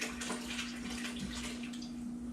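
Hot water drains out of a vanilla extract bottle in a soft, continuous trickle and gurgle, quiet and close, with a faint steady hum behind it.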